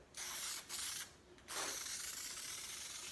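A spray paint can hisses in three bursts onto wooden ramps, two short ones followed by a longer continuous spray, close and steady.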